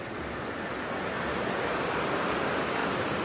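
A river flows beside a walking trail in Boise, Idaho, its water a steady, broad rushing wash that stays constant and fairly loud throughout with no voices.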